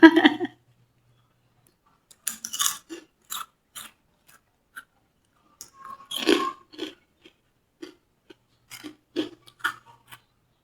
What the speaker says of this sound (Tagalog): Habang nanood ka ng TV, nguya-nguya ka ng chicharon.